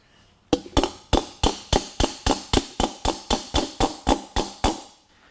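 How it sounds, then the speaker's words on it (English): A hammer strikes a metal fuselage nose over a closely fitted dolly, about sixteen sharp ringing blows in an even, steady rhythm, loud and near, with no talking. "I'm working the whole surface with the hammer and dolly"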